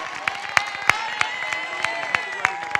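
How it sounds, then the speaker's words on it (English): Sharp, evenly spaced claps ring out at a high school graduation ceremony, a light patter of applause over a steady background drone. "how about a round of applause for this weather?"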